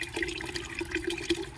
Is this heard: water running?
yes